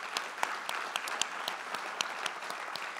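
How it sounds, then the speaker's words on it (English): An audience at a Spokane County civic event claps for the sponsors, a dense steady round of applause with sharp individual claps standing out, filling the whole stretch without any voices. "Let's give them a round of applause."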